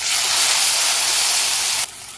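Onion, ginger and garlic paste with bay leaf and cumin frying in hot oil give a loud, steady sizzling hiss close by, which cuts off abruptly just before the end.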